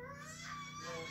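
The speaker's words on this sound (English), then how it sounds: "Sorry if you hear crying in the background." Infant crying faintly in the background, a continuous wavering wail heard from a distance at low level.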